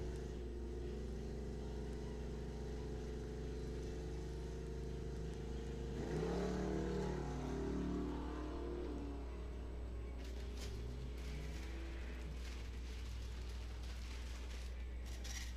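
Drag racing cars, including a 1963 Chevrolet Nova wagon, rumble and rev at a dragstrip, with a steady engine drone that swells as the cars launch and roar away, loud and continuous with no talk.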